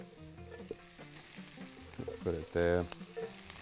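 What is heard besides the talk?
frying in very hot oil for a crispy garnish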